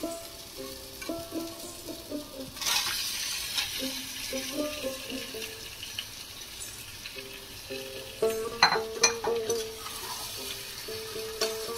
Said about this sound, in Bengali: চিকেনটা আর আলুটা মশলার সঙ্গে 3 মিনিট নেড়ে নেবো।